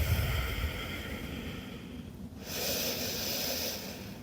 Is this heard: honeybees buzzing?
no